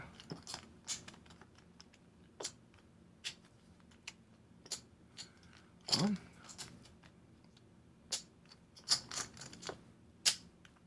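Cards for the board game Too Many Bones are shuffled and handled at a table, giving sparse, close tapping and riffling clicks at irregular intervals, with a louder burst near the middle.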